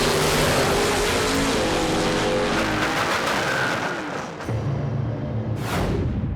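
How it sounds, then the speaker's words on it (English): Drag racing cars, a fully stocked all-muscle 1969 Camaro and a tuned 1985 S10 pickup, roar loudly and continuously at full throttle, the engine pitch shifting as they run, with a brief dip and a sharp burst near the end. "runner-up Clay Cunningham and his fully stocked all-muscle 69 Camaro is rearing to bump former champ Brian Hoffman and his perfectly tuned 85 S10 off their throne"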